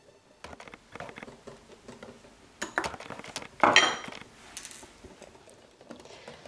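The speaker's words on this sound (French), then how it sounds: "on mélange bien énergiquement au fouet pour éviter d'avoir des grumeaux" Waffle batter made with fresh yeast and starch is whisked vigorously in a bowl, giving quick clinking, scraping strokes in irregular bursts that peak loudest midway, with no voices.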